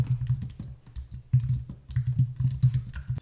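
Brisk typing on a computer keyboard while writing SwiftUI code, a steady run of close key clicks with a few short pauses and no voices.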